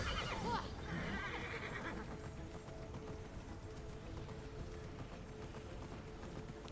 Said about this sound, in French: On peut avoir le cheval.